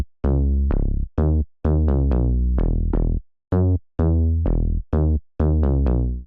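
A distorted synth bass line built in Serum, in a house track, pumps out short, punchy, buzzing notes in a syncopated rhythm, loud and alone.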